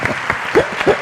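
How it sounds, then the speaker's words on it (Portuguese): An audience at a health discussion event in Palmeira dos Índios gives a brief round of applause, a short burst of clapping with a voice or two briefly audible through it. "merece uma salva de palmas"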